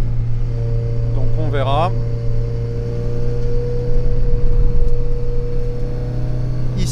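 A car climbs a hill on a racing circuit, held in fourth gear, producing a steady, close engine drone while someone talks over it.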